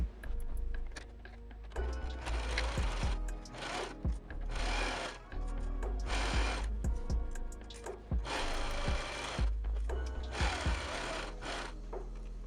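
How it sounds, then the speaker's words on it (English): A sewing machine stitching a quarter-inch seam around the edge of a fabric flounce for a wedding gown, running in several steady whirring bursts with short pauses between them, close and fairly loud. "I'm going to sew 1/4 inch nicely around"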